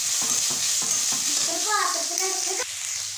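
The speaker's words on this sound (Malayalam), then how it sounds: "അമ്മ ഇങ്ങോട്ടേക്ക് വറുക്കുന്നുണ്ട് ഇപ്പോൾ" Onions fry in a pan while being stirred, giving a steady sizzle with a few scraping strokes of the spoon, and a voice briefly chatters nearby.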